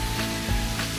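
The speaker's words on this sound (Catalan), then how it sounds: "Mitja hora, 3/4, aproximadament, està costant fregir la carn." Duck meat fries for a Valencian paella, a steady dense sizzle and crackle of fat in the pan, close and constant, heard alone without talking.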